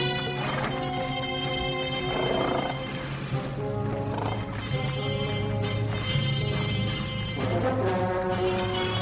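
Horse hooves clip-clop steadily in a 1955 Western radio drama, heard under a dense, continuous layer of tonal sound that fills the whole stretch.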